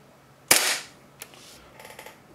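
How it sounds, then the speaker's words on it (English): A Hi-Capa airsoft pistol fitted with a Nineball NEO aluminium magazine fires one sharp, close crack, followed by a fainter click and a few soft mechanical rattles. "Let's just keep on shooting until we get all these out."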